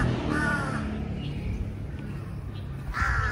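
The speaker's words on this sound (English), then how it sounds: "Too many crows over here." Crows caw in short harsh bursts at the start and again near the end, outdoors in a town in Surin, Isan, Thailand, over a steady background hum.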